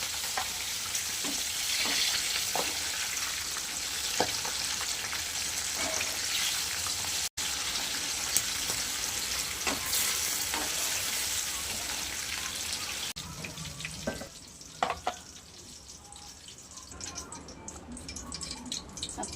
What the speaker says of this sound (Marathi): मिरच्या तळून घेणार